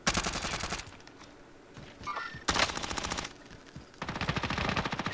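MP5 submachine gun in Call of Duty Cold War firing in rapid automatic bursts, three loud sustained strings of shots split by short pauses, with no talk.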